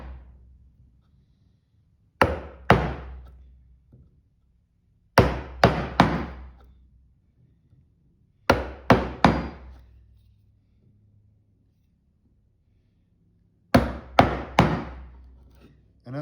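A hand chisel is struck into wood to chop a mortise, giving sharp, close knocks in quick clusters of two to four blows, separated by pauses of a second or more, with no talk.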